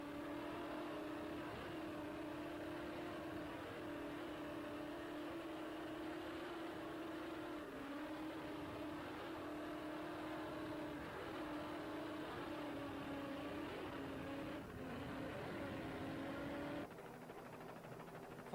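Twin engines of an offshore powerboat in the 1989 United Offshore Powerboat Marathon drone at full power, a steady tonal roar with slight pitch wobbles as the hull works, cutting off near the end.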